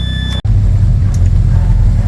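Mazda RX-7 FD with a rotary engine pulls away: a steady, loud low engine rumble holds throughout after a brief dip, with no talk.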